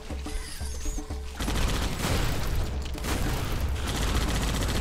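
Rocket launcher fire in the shooter game Painkiller: Reloverdose, set in a desert level, where dense, loud bursts of blasts and impacts follow one another with clattering weapon noise.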